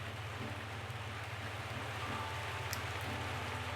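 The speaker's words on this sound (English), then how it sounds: "it's actually bucketing down outside" Heavy rain pours outside in a dense, steady wash of drops, continuous and even throughout with no talking.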